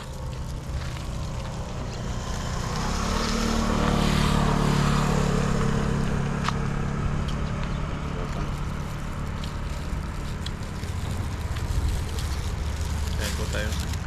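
A motorcycle passes on a newly opened rural road beside a river and banana grove; the engine drone swells and fades, mixed with voices and outdoor ambience.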